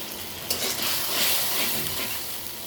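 Spices with turmeric, green chilli and a little water are sautéed in a pan, producing a continuous bubbling sizzle that swells in the middle, with a brief clink at the start and no talking.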